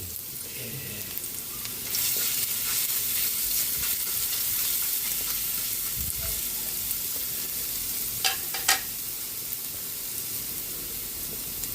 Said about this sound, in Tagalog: Magigisa na tayo ng bawang, para sa tortang giniling